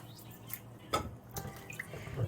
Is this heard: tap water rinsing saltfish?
yes